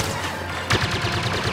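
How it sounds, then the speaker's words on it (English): Rapid machine gun fire in the Star Wars Battlefront survival mode on Endor, a steady rattling stream of shots that starts partway in and continues over a dense game soundscape. "machine gun."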